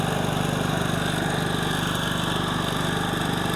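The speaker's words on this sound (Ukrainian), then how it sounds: "Як бачимо, працює він добре, генератор." A small portable generator engine runs steadily nearby, a loud, even mechanical drone with a fast buzzing rhythm and no pauses; the generator only runs with the choke on.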